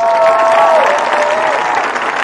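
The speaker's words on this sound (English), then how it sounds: "How about a round of applause?" Applause from a seated commencement crowd for master's degree graduates at a university ceremony, a steady, dense wash of clapping that stays loud throughout, with a faint sustained tone ringing through it.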